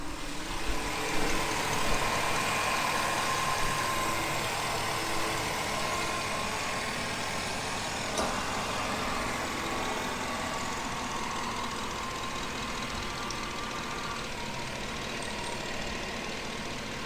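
A 2008 Chevy Avalanche LTZ engine idles in a low, even, continuous hum at moderate distance, steady throughout with no voices.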